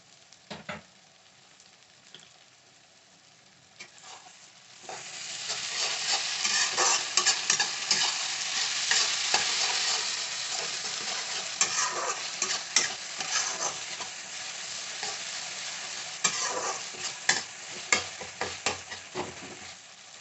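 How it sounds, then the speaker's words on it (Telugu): Ginger garlic paste sizzles and fries in a pan with onions, stirred throughout, the sizzle swelling loud after a quieter start and carrying steady scraping and clinks of a spoon against the pan for the remainder. "ఇలా వేగుతూ ఉన్నప్పుడు అల్లం వెల్లుల్లి పేస్ట్ వేద్దాం."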